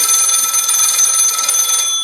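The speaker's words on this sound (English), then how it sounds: "Oh, that'll be the phone." A telephone rings with a loud, continuous high metallic bell tone, steady for about two seconds with no voices.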